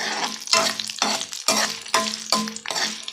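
Coriander seeds, fenugreek, curry leaves and dried red chillies fry and sizzle loudly in a pan, stirred in rhythmic bursts about every half second, close and without talk.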